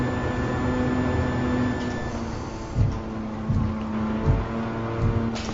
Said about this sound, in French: Ah ouais, le rupteur.